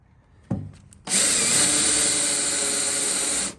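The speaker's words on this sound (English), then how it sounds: "I'm only gonna ideally drill through this one layer of metal right here" A power drill bores through a single layer of metal using a larger bit after a small pilot hole, a brief spin-up then a loud, steady whine with a grinding edge lasting about two and a half seconds, close up.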